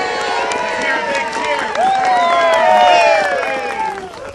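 A crowd cheers and whoops loudly at an outdoor school groundbreaking ceremony, with overlapping shouts and children's voices swelling midway, then easing off.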